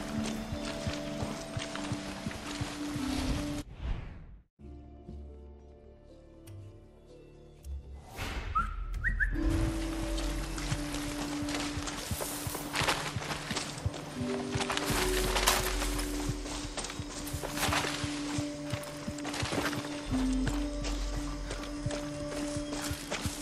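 Horse hooves clip-clop in a steady rhythm in Far Cry 6, with gear rattling and a whistle over outdoor game ambience. Brief talk comes partway through.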